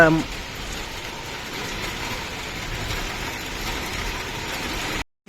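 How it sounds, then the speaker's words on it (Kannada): Heavy rain pours in a steady, dense hiss throughout, with a low rumble underneath and a brief voice at the very start. "ಸಿಕ್ಕಾಪಟ್ಟಿಗೆ ಮಳೆ ಆಗತೈತ್ರಿ ಹೆವಿ ಮಳೆ ನೋಡ್ರಿ"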